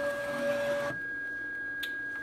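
Braille Blazer braille embosser running a steady mechanical whir and hum while feeding paper, then stopping abruptly to near silence with a faint click after.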